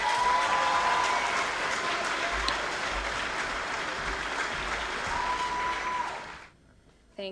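An event audience at a charity fashion show bursts into sustained applause for a speaker, a dense wash of clapping that holds steady for about six seconds before cutting off abruptly.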